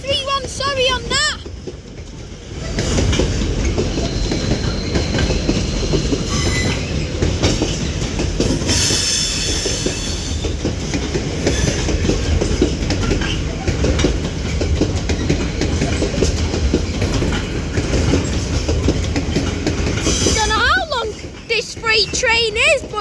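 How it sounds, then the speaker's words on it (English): A long, heavy freight train rumbles steadily past close by through Manchester Piccadilly station, its wheels clattering and squealing faintly, then the noise fades toward the end. "It's a big freight train, but he's almost gone through the station now."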